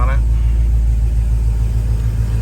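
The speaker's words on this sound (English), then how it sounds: "Got good sounding dual exhaust on it." Deep, steady low rumble of a 1966 Ford Bronco's 351 engine idling through its dual exhaust, constant and close, with no change in revs.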